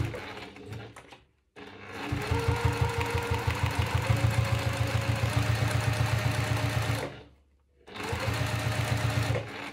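A sewing machine stitches through the vinyl layers of a zipper pouch, close and steady, with rapid rhythmic needle thumps in two long runs separated by a brief pause.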